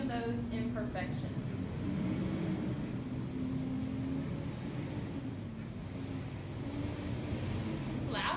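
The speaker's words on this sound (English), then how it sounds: "Lots of trucks in town." Truck traffic in town makes a low, steady rumble outdoors. The drone continues throughout at moderate distance, and a voice can be heard speaking over it.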